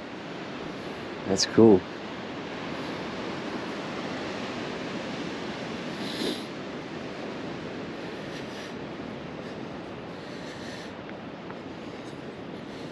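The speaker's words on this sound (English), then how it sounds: "there's some big waves coming in" Big ocean surf rolls steadily onto the shore at Sue-meg State Park in California, a broad continuous wash with wind rumble, and a brief spoken remark near the start.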